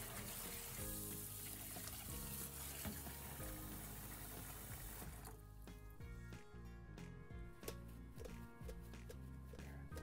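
Chicken wings are rinsed under a running kitchen tap, giving a continuous close rush of water that is full and loud at first, then thins to splashing, trickling flow with light clatters of handling.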